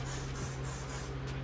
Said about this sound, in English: And I'm going to literally spray this.